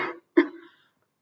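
A man coughs twice indoors, one short muffled cough followed after a brief pause by a sharper, louder one that quickly fades into silence.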